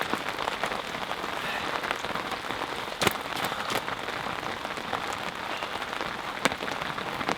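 Steady pouring rain in early February at a winter carp fishery, a dense constant hiss of drops on surfaces with a few sharper patters, close and even throughout with no voices.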